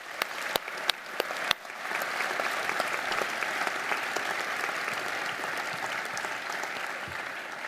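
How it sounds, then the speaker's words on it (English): An audience at a university graduation ceremony for a school of health and society applauds, a few sharp claps opening into steady, sustained applause from a large crowd in a hall, moderately distant. "let's have a round of applause"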